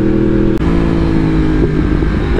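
A Yamaha R1 sport motorcycle fitted with a loud exhaust drones steadily and up close, holding a rich harmonic engine note that briefly cuts out near the start and then pushes on as the rider rolls through a canyon road.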